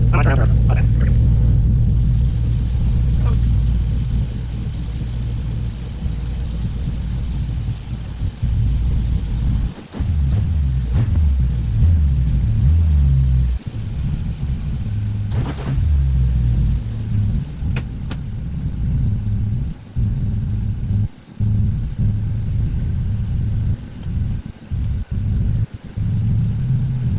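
A Nissan 300ZX running after sitting through winter, backing up slowly: a steady, loud low engine rumble with wind buffeting the microphone and a few faint knocks, no talk.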